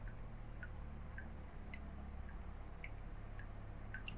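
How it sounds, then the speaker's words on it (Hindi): Slow, irregular drips fall from above in a horror video game, each a small wet tick over a steady low ambient hum, spaced unevenly and fairly faint. "मुझे लगा ऊपर से टपक रहा खून।"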